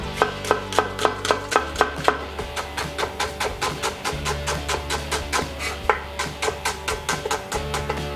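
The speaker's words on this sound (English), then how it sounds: "So first I'm going to chop the shallots." A knife chops shallots on a cutting board in a steady run of close, crisp taps, about two or three per second, with a low hum underneath and no talking.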